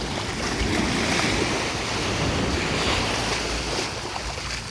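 Sea waves wash onto a sandy beach in a steady, loud hiss of surf, with gusts of wind buffeting the microphone and no voices.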